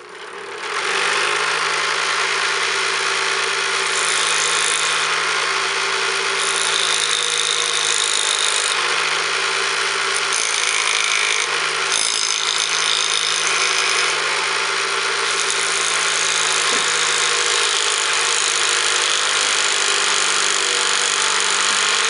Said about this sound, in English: I'm just going to go ahead and grind it down a little bit to make sure it fits better.